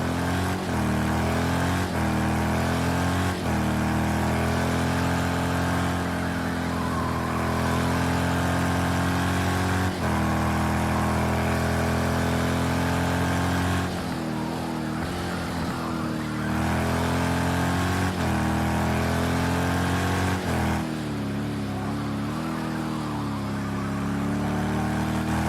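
A GTE race car engine screams through an onboard lap of Circuit of the Americas, revving high and dropping sharply at each gear change and braking zone, loud and close with no talk.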